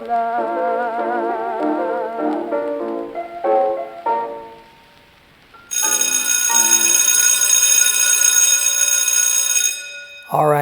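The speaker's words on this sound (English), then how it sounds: "that is the sound of the second bell" Studio session bell on a radio-style swing music show rings out loudly and steadily for several seconds with a bright, sustained metallic tone, following music and a brief pause, then cut off as a voice begins.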